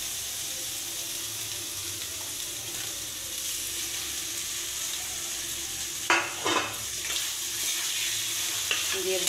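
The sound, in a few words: boiled mashed potato frying and stirred in spice mix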